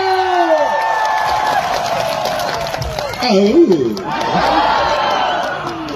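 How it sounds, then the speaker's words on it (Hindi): Crowd at a Karbi Anglong Day celebration applauds and cheers for actor Shakti Kapoor, a steady, loud wash of clapping and voices with whoops rising near the middle, shouting and talk mixed throughout. "एक बार शक्ति कपूर जी के लिए जोरदार तालियां हो जाए।"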